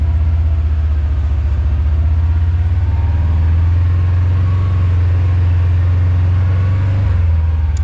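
A 2026 Kawasaki PRO-FXT 1000 LE side-by-side driving on grass in low range, its engine a loud, steady, close low drone that holds throughout with slight changes in pitch, no talking.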